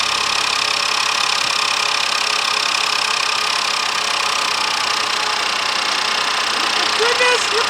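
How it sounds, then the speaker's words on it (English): A Ford engine, fresh from timing belt and oil pump replacement, idles steadily and evenly up close, a constant smooth hum with no knocks, running alone for several seconds. "Goodness, look how quiet that engine got."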